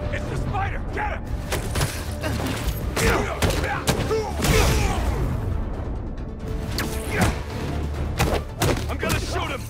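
Armed paparazzi open fire in Marvel's Spider-Man 2, with bursts of gunshots, crashes and thuds in a busy action scene while characters shout over it.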